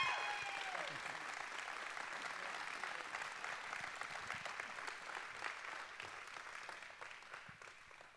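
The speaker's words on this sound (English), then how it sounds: "Ladies and gentlemen, please give a warm round of applause for Vector Bank and Janet Lowe" Warm applause from a school foundation gala audience, a broad even patter of many clapping hands in a large room that eases slowly and thins toward the end, with faint crowd murmur beneath.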